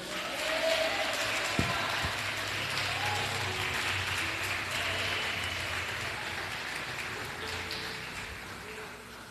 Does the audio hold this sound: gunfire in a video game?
no